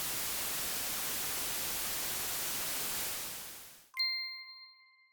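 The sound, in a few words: Dolby Atmos speaker test noise, center channel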